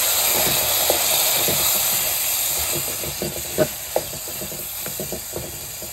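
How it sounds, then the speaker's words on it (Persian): Water poured into a hot pot of sumac-fried meatballs for abgoosht sends up a steady steam hiss and sizzle, with soft clinks and stirring taps scattered through it. "آب میریزیم."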